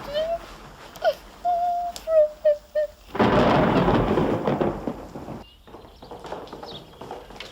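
A long rumbling roar of thunder swells and fills the middle of the scene. Short calls and voices come before it and quieter talk follows, with a broadband wash of storm noise underneath.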